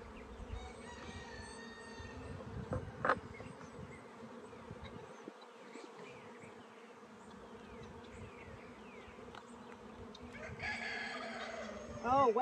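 Honey bees buzzing steadily as frames are moved over into a hive, a dense insect drone close by with a few brief louder bursts and clatter near the end.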